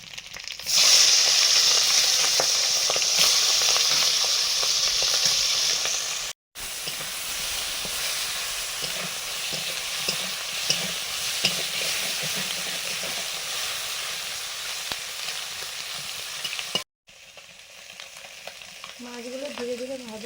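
Tangra and punti fish fry in a pan with a loud, steady, close sizzle that runs almost unbroken, pausing for two short gaps, with no voices.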